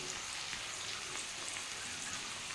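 Fish head pieces fry in a pan as tomato, cumin powder and red chilli powder are added, giving a steady, soft, even sizzle with no talking.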